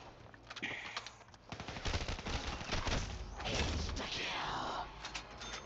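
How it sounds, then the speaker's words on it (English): An SMG fires in bursts in Call of Duty Zombies Chronicles on the Verrückt map, rapid rattling gunfire with mechanical clanks, moderately loud and continuing in spurts over several seconds. "With this SMG, I bring death."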